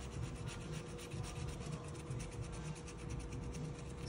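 A coin scrapes across a lottery scratch-off ticket in steady, rapid rubbing strokes, close and fairly quiet, with no talking.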